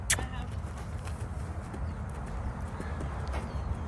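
Hooves of a gaiting horse on trailer-loading day, a steady fast clip-clop rhythm close by, with a couple of sharp louder hits and faint background sounds.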